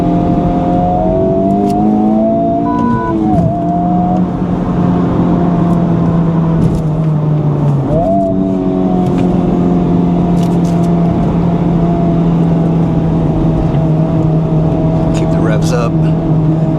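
Honda Civic Type-R FL5 engine revving hard while driving, a loud sustained climbing drone with gear-change dips and re-rises, heard from inside the car with a voice talking over it.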